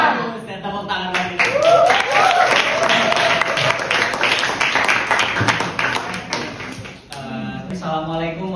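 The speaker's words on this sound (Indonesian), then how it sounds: "Saya tepuk tangan lagi" Loud, sustained applause from a seminar audience, dense clapping rising quickly and holding for several seconds before cutting off, with a voice speaking over the last moments.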